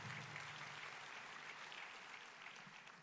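An audience at the DeKalb County State of the County address breaks into sustained applause, a dense, even patter of many clapping hands heard from a distance with no voices on top.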